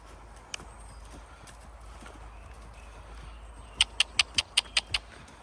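A horse walks with a steady series of seven crisp hoof clip-clops close by, preceded by one isolated hoof strike, over quiet background.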